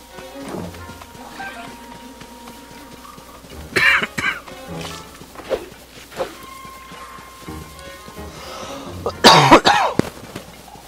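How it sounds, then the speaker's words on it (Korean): A character coughs in the video game The Legend of Zelda: Tears of the Kingdom, with several short bursts, the strongest near the end, over quiet game ambience and no speech. "기침이 나지."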